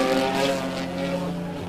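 Race cars run laps during a WRL endurance race at Mid-Ohio, engines droning in a steady mid-distance hum with shifting tonal whine as they pass, forming continuous trackside ambience without talk.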